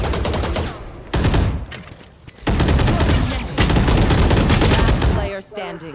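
Rapid automatic gunfire sprays in Valorant, loud dense bursts of shots in several long strings separated by brief pauses, with occasional voices underneath.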